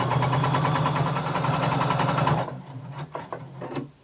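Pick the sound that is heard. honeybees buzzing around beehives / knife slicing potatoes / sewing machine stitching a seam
sewing machine stitching a seam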